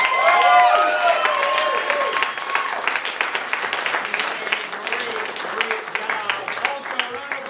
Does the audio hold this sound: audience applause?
yes